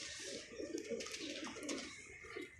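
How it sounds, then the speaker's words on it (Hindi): Pigeons coo softly in a loft, low rolling murmurs repeating under a busy, noisy background with faint rustling. "ये मेरे डब वाले कबूतर"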